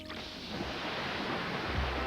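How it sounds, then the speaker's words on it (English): Water pours steadily onto a person in a soft, continuous splashing hiss, close and fairly quiet, ending in a low thump. "Why are you pouring water on me?"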